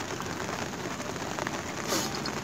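Rain pours steadily on an outdoor fishing spot where anglers are landing fish, a dense, even hiss of falling drops with no pauses and a slight swell near the end.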